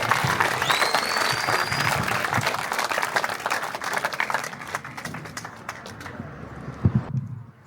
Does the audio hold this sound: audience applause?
yes